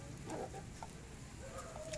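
Caged chickens cluck softly after being fed, a few short scattered clucks and calls over steady farmyard background noise.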